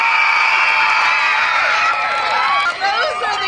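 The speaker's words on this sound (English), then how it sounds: "I think you can cheer a little louder for Mr." Schoolchildren at an elementary school assembly cheer and shout together, a loud, sustained burst of high young voices that wavers and trails off with a few whoops near the end.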